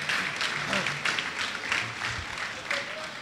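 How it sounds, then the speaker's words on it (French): Crowd applause at the grand final of a Virtua Fighter 5 fighting game tournament at Stunfest 2013, continuous clapping that fills the room, with an announcer talking over it. "on les applaudit bien fort"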